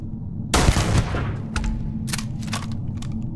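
A sharp, loud gunshot burst from the sci-fi video game Starfield rings out with a decaying tail, followed by a few lighter, quicker shots over a steady low background rumble.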